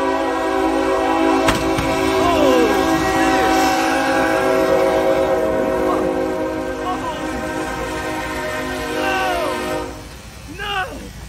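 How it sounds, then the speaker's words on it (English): A train rumbles past with a loud, sustained horn blast, steady rolling noise and screeching wheel squeals throughout, as it hits a car. "this train's about to smoke this car"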